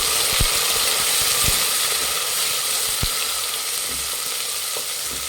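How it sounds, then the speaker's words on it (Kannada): Onions and peas fry in a pan with a loud, steady hiss of sizzling oil, punctuated by occasional dull knocks of a spoon stirring; no one speaks. "ಈರುಳ್ಳಿ ಎಲ್ಲ ಚೆನ್ನಾಗಿ ಫ್ರೈ ಆಗಿದೆ ಈಗ ಬಟಾಣಿ ಹಾಕ್ತಾ ಇದ್ದೀನಿ ಮಿಕ್ಸ್ ಮಾಡಿ"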